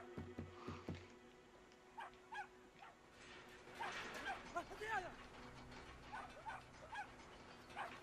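Dogs bark and yip faintly in the video game Brothers: A Tale of Two Sons, scattered short calls over a low game background, with a few clipped barks near the start and more yelps midway.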